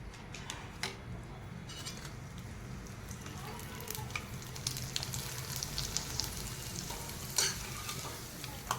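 Sago-and-potato papad frying in hot oil, a steady close sizzle and bubbling throughout, with occasional light clinks and stirring noises over the crackle.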